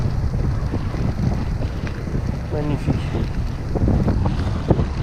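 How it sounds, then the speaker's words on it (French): A strong headwind roars across the microphone during a gravel bike ride, a constant loud rushing buffet that covers everything, while a voice speaks briefly once. "Et le vent de face, quasiment tout le retour, quoi."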